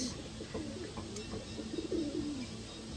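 Racing pigeons kept for club training coo softly in a low, rolling murmur, with a few chirps and light rustling in the background and no talking.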